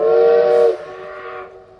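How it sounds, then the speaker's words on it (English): A steam-style train whistle gives one sustained, loud blast that cuts off after under a second, leaving a softer fading tail. No one speaks. "And train whistles."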